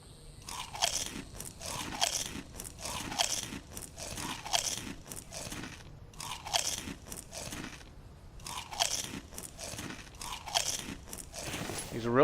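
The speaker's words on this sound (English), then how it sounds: "He's a really loud eater, and regardless of what he eats, it's all crunchy." A character in the video game The Infected eats crunchy food, loud crisp bites and chewing crunches repeating in steady clusters for about twelve seconds, close and alone with no talk.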